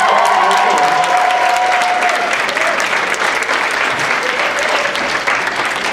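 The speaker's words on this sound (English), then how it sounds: "round of applause for all of them" Audience applauding contestants at a convention cosplay contest, loud sustained clapping that fills the whole stretch while someone speaks over it through a microphone.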